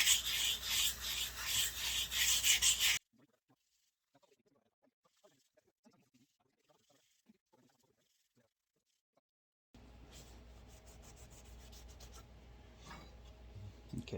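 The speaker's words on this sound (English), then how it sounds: "So let's go ahead and start the sanding process." Hand sanding on the metal body of a 1959 Tonka toy pickup: loud, close rhythmic rasping strokes for about three seconds, then near silence with faint scratches, then steadier softer rubbing resumes.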